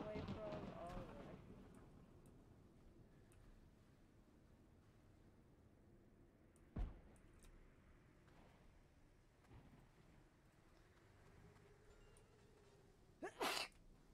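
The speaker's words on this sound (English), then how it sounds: "Did not mean to sneeze on camera." A single sharp sneeze near the end cuts through faint outdoor wind and rustling, with a couple of softer thumps earlier in the quiet stretch.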